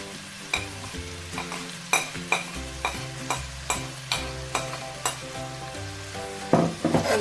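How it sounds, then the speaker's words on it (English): Onions and green chilies with salt frying in hot oil in a pan, a soft continuous sizzle with regular sharp scraping taps of a spatula roughly every half second, close up, with faint tonal background music. "I've heated up some oil in this pan, and into the oil we're going to add in the onions and the chilies, along with the salt"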